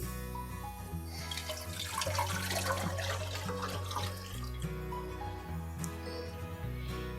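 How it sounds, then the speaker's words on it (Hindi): Chicken stock (yakhni) pours into a cooking pot with a steady watery gush and splashing, close up, over a constant low hum in a kitchen. "अब इसमें चिकन यखनी डालूंगी।"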